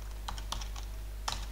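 Quick, light taps on a computer keyboard come in a brief irregular burst of a few keystrokes, close up over a steady low electrical hum.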